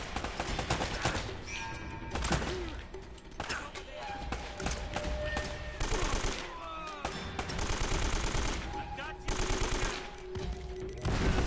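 Gunfire from a third-person shooter game, Uncharted: Drake's Fortune, including shotgun blasts among repeated loud bursts of shots, with someone talking intermittently over the chaotic combat noise.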